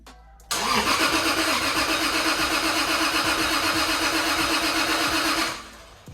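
A Toyota Supra turbo engine cranks and catches after a short pause, then runs at a steady loud idle for about five seconds before cutting off, close by with no talking.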